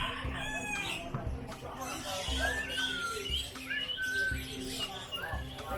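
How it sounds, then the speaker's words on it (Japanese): Many chickens call at once, with roosters crowing and hens clucking in a dense, continuous overlapping chorus, some near and some farther off, in Taiwan. "これだけの鶏がいればいい朝の目覚めになるだろう。"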